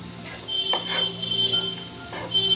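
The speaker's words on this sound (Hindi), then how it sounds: "प्याज को हम थोड़ी देर पका लेंगे" Onions frying in a pan for an egg pizza sandwich, a soft sizzle under scattered clinks and scrapes of a spoon stirring against the pan, close by and without speech.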